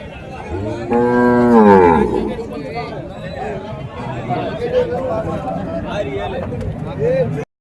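Cattle at a country cattle market in Uthangarai, Krishnagiri district, with one loud, close moo early on, followed by the chatter of people talking and faint birds.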